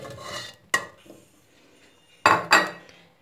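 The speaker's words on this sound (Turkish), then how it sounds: "Bir tane tenceremizin içerisine çileklerimizi atıyoruz" Chopped strawberries are tipped into a metal cooking pot for jam, giving a few sharp clattering knocks and scrapes against the pot, two near the start and a pair near the end.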